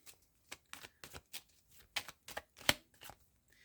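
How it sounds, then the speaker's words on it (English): Tarot cards being shuffled by hand, a series of short, crisp riffling bursts spaced irregularly and heard up close and fairly quiet, with no talking. "next I'm going to shuffle for another one"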